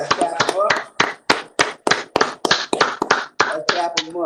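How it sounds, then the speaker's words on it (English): An audience claps for Courtney in steady, rhythmic bursts of sharp, close claps, about three per second, with voices mixed in. "So let's clap Courtney up, bro. Let's clap him up."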